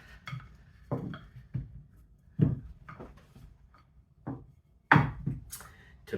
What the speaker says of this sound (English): I'm going to have to go around the pan, cut off the excess I've got so I can use that